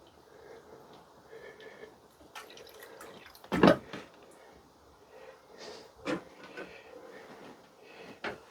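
Water is splashed over Thanksgiving cactus cuttings to rinse off vermiculite, giving quiet drips and a couple of brief, louder splashes against a soft background.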